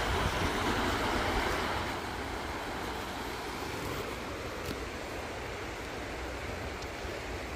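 Steady rushing water flows continuously, a broad even wash of sound like the Hutt River in Lower Hutt, New Zealand running nearby, with no voices.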